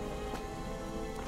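Steady rain falling in the video game Guardians of the Galaxy, a dense continuous hiss with no voices.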